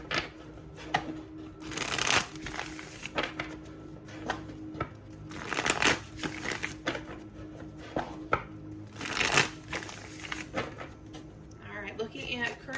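A tarot deck shuffled by hand, with repeated riffling and flicking bursts in an uneven rhythm, close and clear, under a person talking at times.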